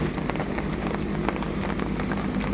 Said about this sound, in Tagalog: grabe ulan ngayon